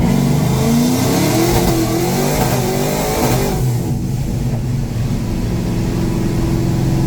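A Chevy car with a loud open exhaust pulls away hard in second gear, engine revving steadily upward close by, a continuous roar that eases slightly near the end.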